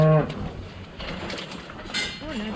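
A calf moos at close range on a farm during cattle work while an illustrator ring is fitted. It gives short lowing calls with some clinking and background talk.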